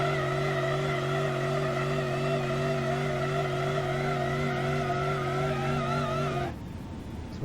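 In the BeamNG.drive driving game, a car engine holds a loud, steady high-revving drone against the transmission brake, then cuts off abruptly near the end as the car launches, leaving a rougher, quieter rumble.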